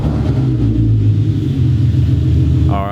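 A car engine running at a steady idle, a continuous low rumble close by that stays level throughout, with a brief rising whine near the end.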